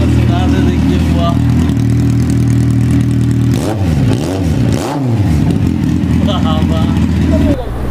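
A Kawasaki Z800 superbike engine idles loudly, then revs up and down in several sharp sweeps before settling back, with someone talking over it.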